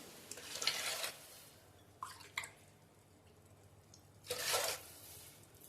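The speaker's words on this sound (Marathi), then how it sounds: "आता ह्याच भांड्याने मी 3 भांडी एवढं पाणी घालणार आहे." Cold water is poured from a vessel into a pressure cooker pot of soaked black-eyed peas, in three short splashing bursts separated by quiet gaps, near and fairly soft.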